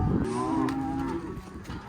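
Cattle moo loudly and close by as the herd heads out to grass, a long drawn low call with a second fainter bellow, over outdoor farm background noise.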